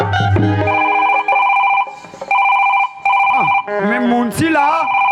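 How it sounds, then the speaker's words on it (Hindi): A mobile phone ringtone goes off during a Chhattisgarhi nacha gammat comedy stage performance, sounding as a repeated electronic melodic ring in steady bursts, with a voice joining near the end. "मोर मोबाइल कैसे टुनून टुनून करत"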